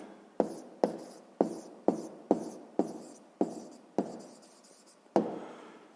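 Pen strokes scratch across paper while a maths answer is written down, a series of about nine sharp taps and short scribbles in a steady rhythm, close and clear with no talk.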